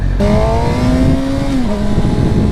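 A 2009–2010 sport motorcycle with a reported issue is ridden, its engine droning steadily close by with a rising pitch that drops as the rider shifts, under wind rush.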